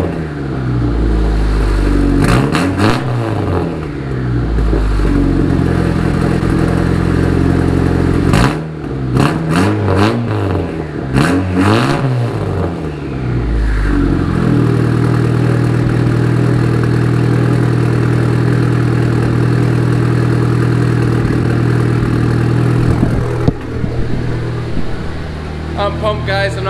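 Turbocharged Honda Accord engine with a 3-inch straight pipe running in a garage, loud and close, idling with repeated revs rising and falling, then settling into a steady drone while someone talks over it.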